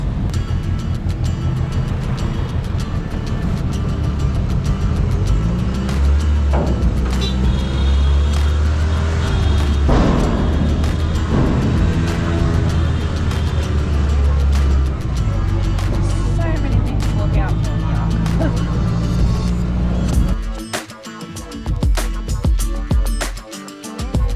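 An auto rickshaw drives along an Indian road between Cuttack and Brahmapur, its engine droning loud and close with steady road rumble that eases off near the end.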